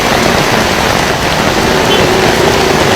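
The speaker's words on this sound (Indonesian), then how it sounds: "Diguyur hujan deras" Heavy rain pouring down in flooded North Jakarta: a loud, dense, unbroken hiss of downpour with no voices, close and enveloping throughout.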